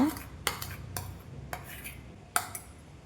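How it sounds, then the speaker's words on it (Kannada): A flour mixture gets mixed in a bowl, a handful of sharp clinks and knocks of a utensil against the bowl spaced about half a second apart, with quieter scraping between them. "ಇದನ್ನು ನೀಟಾಗಿ ಮಿಕ್ಸ್ ಮಾಡ್ಕೊಳ್ಳಿ"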